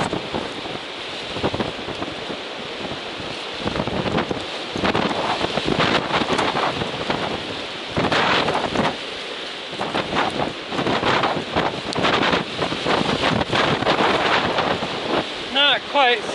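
Cold, gusty wind buffets the microphone in loud, uneven rushes on the Appalachian Trail, with water and boat noise beneath and a short bird-like chirp near the end.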